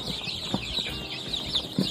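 Three-day-old baby chicks of a backyard flock, over a hundred of them, chirp in a steady high-pitched chorus at close range, with a few brief scratchy pecking sounds and no speech.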